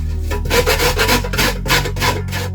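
Rapid rhythmic rasping as coconut is scraped back and forth against a hand grater, close and steady, with no talking.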